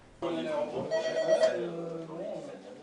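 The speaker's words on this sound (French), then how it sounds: "En salle, le téléphone n'arrête pas de sonner." A telephone rings repeatedly in the dining room of the restaurant Au Passé Simple, its ringing steady and fairly loud beneath people talking nearby.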